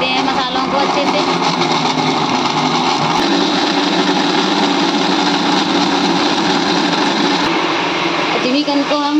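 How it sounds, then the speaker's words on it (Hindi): A kitchen mixer grinds cumin and spices together, running as a loud, steady, high-pitched whirring drone close by for the whole stretch, with no talking. "सारी चीज़ों को साथ में ही पीस लेंगे। इसमें हमने ये जीरा डाल दिया है, ये पीस लेते हैं मसालों को अच्छे से।"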